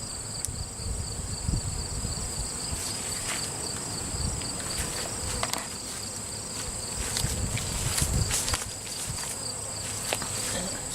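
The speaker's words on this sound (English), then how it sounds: "Hey, little bee. Slap full of nectar." Honey bees at a beehive give a dense, continuous buzz that swells and fades as single bees fly close past, with no talk.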